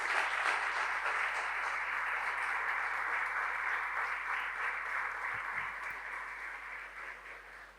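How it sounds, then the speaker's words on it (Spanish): A church congregation claps together in a steady, fairly quiet round of applause that holds evenly, then tapers off slightly toward the end. "Dele un aplauso"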